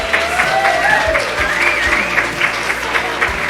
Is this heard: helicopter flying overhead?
no